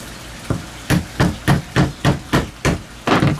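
Blue crab being cracked apart by hand, heard as a run of about eight sharp, close knocking cracks at an even, steady rhythm, with no voices.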